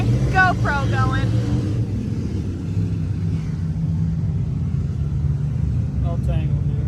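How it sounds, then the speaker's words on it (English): Modified race cars at Charleston Speedway give a steady, heavy engine rumble from across the track that fills the whole stretch, while people nearby speak over it. "Probably can't hear us over the modifieds are racing right now"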